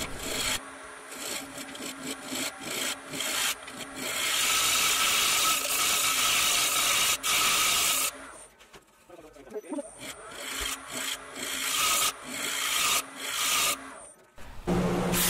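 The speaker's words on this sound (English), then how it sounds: "I started sanding at 80 grit and I went through all the grits clear up to 320." Steady rasping of sandpaper against a thin wooden apple bowl, rising and falling in strokes, with brief pauses and a short break midway.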